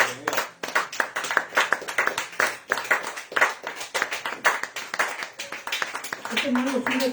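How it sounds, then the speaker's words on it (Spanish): A church congregation claps in quick, uneven bursts, sharp hand slaps crowding together throughout, with a faint tone near the end. "Del aplauso al Señor."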